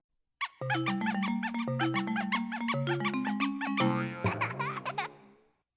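A playful alternate Nintendo GameCube startup jingle, triggered by holding the Z button, bounces through quick repeated notes, then breaks into squeaky giggling sounds as it finishes.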